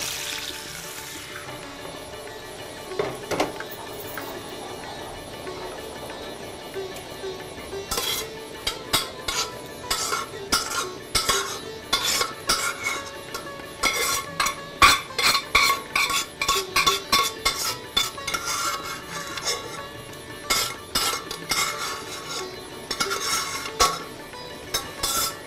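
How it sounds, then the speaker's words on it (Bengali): Chana dal tips into a pan of tempering with bay leaf, green and dried red chillies, followed by repeated metal spoon clinks and scraping as it is stirred, fairly close and steady with no talking. "এবার আমি ডালটা এর মধ্যে ঢেলে দেবো"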